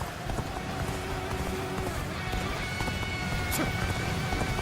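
Horse hooves galloping in the video game Dynasty Warriors: Origins, a rapid steady clatter mixed into dense battlefield noise and game music, with no clear break in the rhythm.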